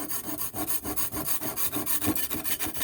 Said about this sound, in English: as you're cleaning the back of your marble, you could be sharpening your knives.